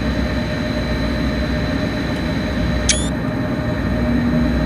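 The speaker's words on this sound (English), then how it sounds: "It's the same default F40 sound that you hear on Caltrain engines as well." Default F40PH diesel locomotive engine sound in Train Sim World on an MBTA Boston to Providence service: a loud, steady idling rumble with a constant drone, a brief high squeal partway through, alone without talk.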